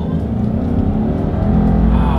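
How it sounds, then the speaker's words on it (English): A 2022 Subaru Legacy with all-wheel drive accelerates hard along a straightaway, heard from inside as a loud, steady engine and road drone that builds slightly toward the end. "let's see how quickly the Legacy, having full control here, can get us up to speed"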